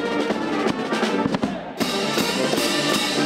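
A brass band playing loud, dense music with rhythmic percussive hits, heard alone and fairly close.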